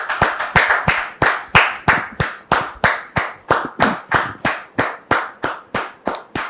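Studio audience clapping for a guest arriving on a French talk show set, a steady run of about twenty sharp, close, loud claps in quick rhythm with no voices.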